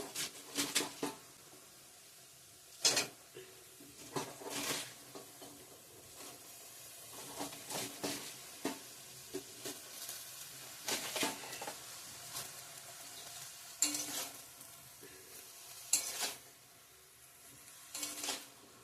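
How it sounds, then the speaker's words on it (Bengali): Cabbage leaves fry in a pan with dried fish, garlic, green chilies and salt, giving a steady sizzle broken by repeated scraping and clattering bursts from stirring, close by with no talk. "এখন পাতা কপিগুলা দিয়ে দেবো"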